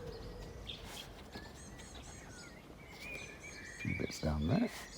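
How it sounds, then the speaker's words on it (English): Birds chirp and trill outdoors at a moderate distance, scattered calls against a faint background, with a voice briefly speaking near the end. "Listen to the birds, they're going mad today."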